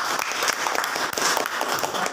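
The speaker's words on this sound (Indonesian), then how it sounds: "Tepuk tangannya." Classroom students break into lively clapping during a teaching session on Islamic studies, a dense burst of hand claps that stays loud and close for the whole stretch.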